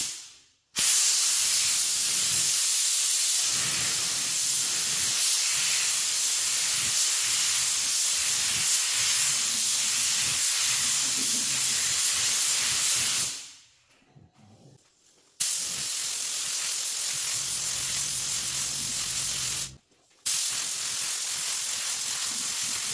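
A spray gun hissing out blue-dyed inner coat in long, loud continuous bursts, cutting off twice for brief pauses before resuming, with no talk.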